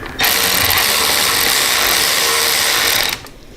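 Tightening a bracket on a Harley-Davidson Street Bob sport fairing with a ratchet, a continuous rapid buzzing clatter lasting about three seconds, close and loud, then stopping abruptly.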